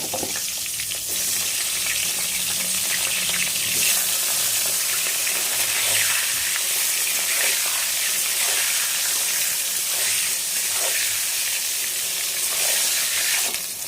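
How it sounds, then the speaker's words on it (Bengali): Brinjal pieces fry in hot oil in a pan, giving a dense, even sizzle and hiss that stays loud and constant, with faint stirring scrapes now and then and no voices. "কেটে রাখা বেগুন দিয়ে দিচ্ছি, বেগুনগুলো একটু ভেজে নেব।"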